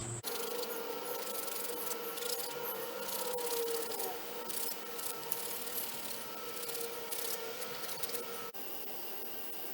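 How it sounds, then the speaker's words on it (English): A small miniature wood file rasps steadily inside the hollow of a handmade wooden ocarina, giving a close, continuous scraping that runs quietly and without speech. "Now I'm just going to take my little miniature wood file and just kind of open it all up."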